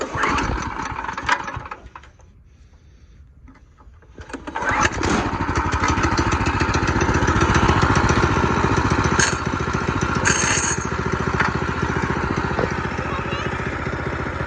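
A small go kart engine sputters, nearly catches, then fires and settles into a steady, loud, close buzzing run with slight shifts in pitch, while people talk briefly near the start.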